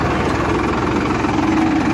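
Farmtrac 60 Powermaxx tractor engine running steadily in a field in high gear at about 1500 RPM, a close, loud, even diesel drone with a low vibrating rumble.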